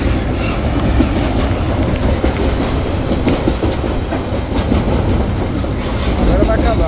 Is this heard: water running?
no